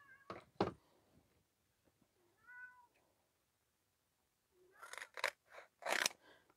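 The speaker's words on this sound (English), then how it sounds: "I'm gonna mark it here so I can, there. And I'm just gonna cut it." Scissors snip through craft material in a few short, crisp cuts, preceded by two quick snips early on, with a cat meowing faintly in between in a quiet room.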